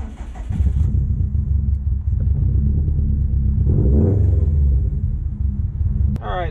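A Subaru STi engine idles with a steady low rumble while warming up, with a brief rise in revs partway through and a short sharp noise near the end.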